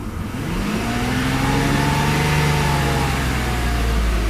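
A 1993 Mercedes 600SL with its V12 engine revving, one smooth rise and fall of the throttle over a steady mid-pitched engine roar, close and loud with no talk.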